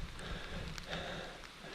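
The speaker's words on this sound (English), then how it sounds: "we're getting absolutely pelted by hail." Hail pelts down on a mountain walking track near Cradle Mountain, a continuous close rattle of small impacts with scattered sharper hits throughout.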